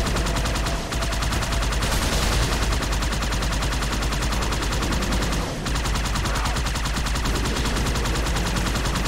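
Rapid gunfire rattles nonstop in Halo 2, a loud, dense stream of shots with brief pauses, close and dominant throughout.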